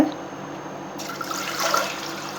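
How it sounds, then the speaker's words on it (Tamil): Water is poured from a small metal vessel over rinsed lentils in a pot for cooking, a steady close splashing and trickling that swells toward the end. "தண்ணி ஊற்றிக்கலாம் ஒரு சொம்பு தண்ணி போதும்"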